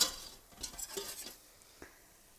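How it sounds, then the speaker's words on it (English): Flour being stirred into melted butter in a pan to make a roux, giving a few soft scraping and clinking strokes with faint sizzling, near and fairly quiet, with no talking. "So in goes the flour, give it a little stir."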